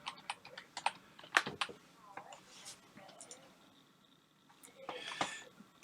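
Password being typed on a Mac computer keyboard: a run of quick, light key taps in irregular bursts, close and fairly soft, with a few louder clicks and brief murmured speech in the background.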